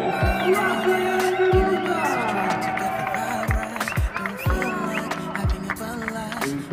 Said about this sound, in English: And how about the biggest cheer of his career, a first-time winner in World Supersport from Italy